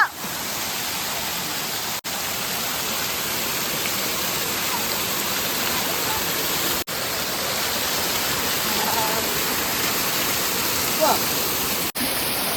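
A hidden waterfall at a trekking spot in Thrissur sends up a steady, broadband rush of falling water. The roar stays even and continuous throughout, with a few brief dips.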